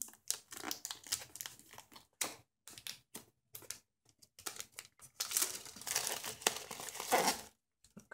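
A Xiaomi Mi 8 Lite phone box is opened, with close crinkling, tearing and rustling of the packaging in irregular bursts, growing denser and louder toward the end, with no talk.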